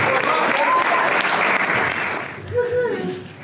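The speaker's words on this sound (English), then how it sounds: "So, ladies and gentlemen, please, round of applause." A crowd at a boxing press launch claps and applauds loudly, then the clapping fades as a voice begins to speak.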